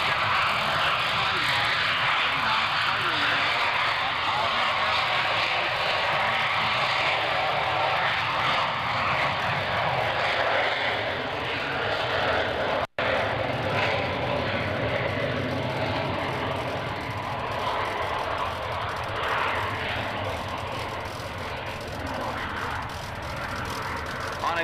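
A loud, sustained engine roar of an F-117 passing overhead at the 2003 Dayton Airshow, droning steadily throughout with a faint voice underneath.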